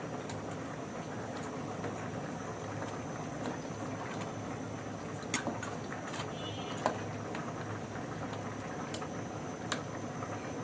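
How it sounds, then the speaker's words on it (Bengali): Bottle gourd and black lentils simmer in a pot, giving a steady, moderate bubbling hiss that runs evenly throughout, with a few faint clinks rising above it. "এখানে আমি লাউ আর মাসকলাইয়ের ডালটা সিদ্ধ করে নিচ্ছি।"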